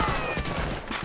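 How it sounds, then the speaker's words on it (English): Machine-gun fire in the Medal of Honor Allied Assault beach assault, a dense continuous fusillade of rapid shots with no gaps, loud and close throughout. "Avoid the pattern of the guns!"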